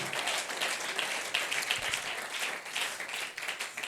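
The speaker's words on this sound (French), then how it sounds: "you clap that hand" A church congregation at a convention claps their hands for Jesus, producing dense, sustained applause from many people that fills the space evenly and continuously, with little else audible.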